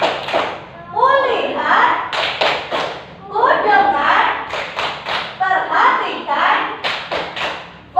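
Classroom of children doing a rhythmic Indonesian focus clap, bursts of clapping and thumps in patterned groups mixed with the teacher's and kids' chanting voices.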